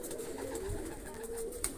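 Pet pigeons kept for flying give soft, repeated cooing close by against a faint background hum, with low murmuring calls running through the whole moment.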